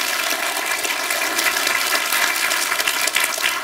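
A lecture-hall audience at a youth talk event claps together in a dense, steady wash of applause that holds at an even, loud level for the whole stretch, with no voices over it.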